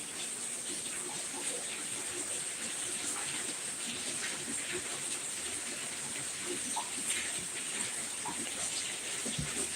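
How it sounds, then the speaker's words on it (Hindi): Heavy rain pours steadily in a village during hot weather, a dense continuous hiss of falling water with scattered drips and splashes, loud and unbroken with no talk. "बारिश बढ़त जाती, बहुत बढ़ गई"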